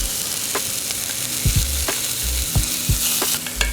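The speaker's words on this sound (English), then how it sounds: "And I'm gonna put on some spinach here." Spinach sizzling and frying in a pan for bibimbap, with a steady hiss broken by a few sharp clacks of a utensil stirring the greens, close and loud with no voices.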